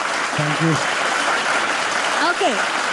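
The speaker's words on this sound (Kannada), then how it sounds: "ಚಿಕ್ಕಣ್ಣಗೆ ಮತ್ತೊಮ್ಮೆ ಜೋರಾದ ಚಪ್ಪಾಳೆ ಪ್ಲೀಸ್" Audience at a Kannada film event applauding the actor Chikkanna: steady, dense clapping from a large crowd throughout, with brief voices audible over it.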